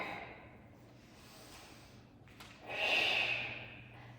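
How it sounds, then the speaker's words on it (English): A close breath during a Pilates band exercise: a soft, drawn-out inhale, then a louder, breathy exhale, with no talk. "I'm going to inhale here and exhale here."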